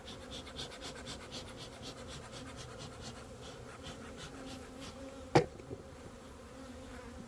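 Honey bees buzz around open hive frames in a dense, continuous hum with pulsing wingbeats up close, and a sharp scrape or knock near the end as a frame is handled.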